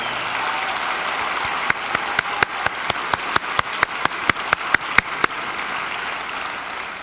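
Steady audience applause at a school district convocation, a continuous wash of clapping with a distinct run of loud, evenly spaced claps standing out near the front.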